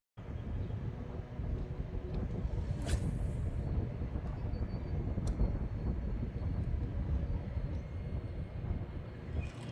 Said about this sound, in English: A lot of wind coming through.